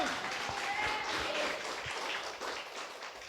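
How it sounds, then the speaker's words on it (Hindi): Church congregation applauding at a Christmas service in Itanagar, a dense sustained wash of clapping from many hands at moderate distance, steady throughout with a few voices mixed in. "क्या ताली बजाओगे जोर से?"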